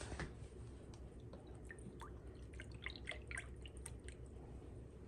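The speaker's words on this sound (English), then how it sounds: "now I'm gonna add some beef broth" Beef broth poured over cornbread dressing, soft close liquid splashing and dripping against a quiet kitchen background, faint throughout and with no speech.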